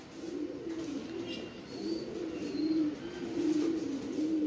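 Cooing from a white-eyed pigeon, a steady low warble running throughout at moderate closeness, with faint higher chirps from other birds in the background.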